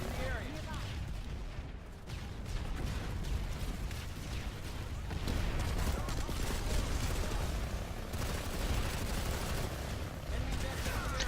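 Sustained gunfire in a first-person shooter video game, a dense, continuous barrage of shots and blasts running through the whole stretch, loud and close with no gaps.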